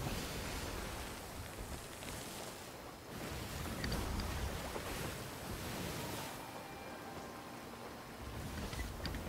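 Ocean waves in the pirate game Sea of Thieves, with a soft continuous wash of surf and wind swelling and fading in broad surges, fairly quiet and with no voices.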